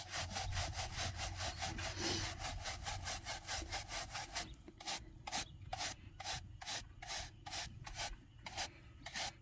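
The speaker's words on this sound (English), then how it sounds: "you can use a stiffer brush and then you can rub back and forth" A paint brush scrubbed back and forth with a stiff brush during cleaning, giving a fast, even series of close, rasping strokes that slows after about four seconds into a more spaced rhythm, with no talking.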